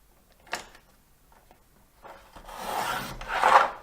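A stamped cardstock sentiment is trimmed with a paper trimmer. After a single soft knock, a rasping, sliding cut builds and grows louder toward the end, heard up close.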